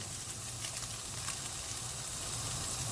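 Minced meat for bolognese sizzles in a pan, a steady soft hiss with faint crackling and popping throughout.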